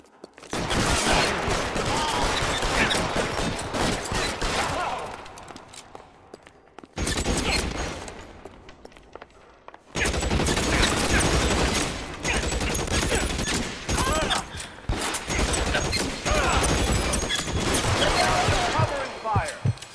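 Gunfire from the video game L.A. Noire, with loud bursts of shots and a fusillade of overlapping rounds filling most of the stretch, broken by a short quieter gap before the shooting resumes at full intensity.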